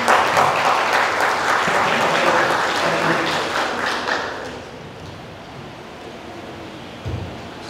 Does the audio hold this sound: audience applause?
yes